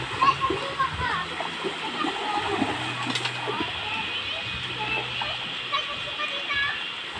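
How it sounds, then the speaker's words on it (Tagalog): People bathe in a river, with irregular splashes and sloshing water over a steady stream-like flow; children's voices and talk are heard throughout. "Ang sarap-sarap talaga maligo sa ilog."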